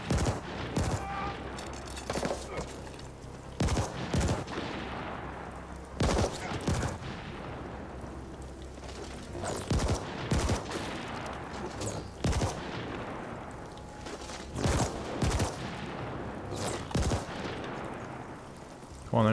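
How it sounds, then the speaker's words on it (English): Enemy gunfire in The Ascent, loud bursts of rapid automatic shots and heavy impacts hammering repeatedly throughout, with a dense combat bed and a few spoken words. "Who the heck is shooting at me?"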